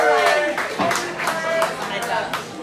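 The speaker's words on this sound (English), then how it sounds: "Let's give a round of applause for Greg." Broadband crackling applause from a crowd at a band's reunion show in a brewery, steady for a few seconds, with some cheering and voices mixed in.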